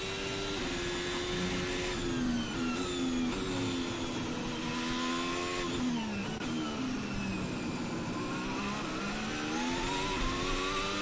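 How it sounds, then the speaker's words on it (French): A Formula 1 car during 2022 French Grand Prix practice, downshifting into a corner and then quickly upshifting under acceleration on the exit, its high-pitched engine wail sweeping down and back up loudly and continuously. "L'impression qu'il rétrograde pour faire pivoter la voiture et passe tout de suite au rapport supérieur pour ne pas patiner en sortie de virage."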